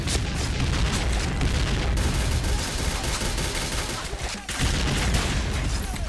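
Nonstop gunfire in a video game shootout, a loud, crowded fusillade of shots and booms that rattles on almost without pause, dipping briefly before resuming.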